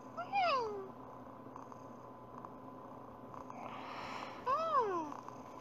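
A virtual cat in the Talking Angela mobile game gives two short rising-and-falling meows about four seconds apart, over a low steady purr-like hum with faint background sound.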